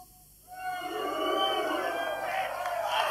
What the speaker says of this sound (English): I want everyone to boo and hiss, okay?